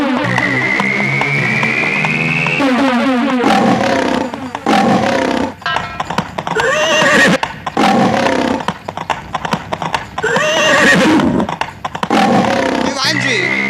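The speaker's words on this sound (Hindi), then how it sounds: "पहले फिर आपका घोड़ा, फिर सबसे पीछे हमारा नीमा घोड़ी।" Horses on a royal journey through open country whinny and clop along in a dense, loud mix, with sustained music-like tones and scattered hoof hits under continuous sound and no clear gaps.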